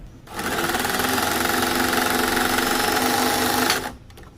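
A sewing machine stitches lining fabric for a newborn baby cap or booties, a close, steady mechanical whir running evenly for about three and a half seconds, then stopping, with no talking.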